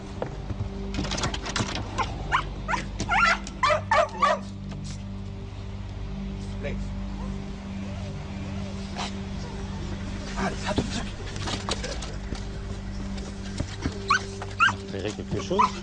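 A customs detection dog at the Franco-Belgian border gives repeated short barks and whimpers in bursts, heard over a steady engine-like hum and scattered background noise.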